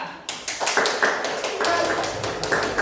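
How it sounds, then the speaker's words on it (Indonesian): A classroom audience claps for a presenting student group, a burst of brisk, close hand claps that settle into steady applause over a voice talking underneath. "kita beri tepuk tangan untuk kelompok kita."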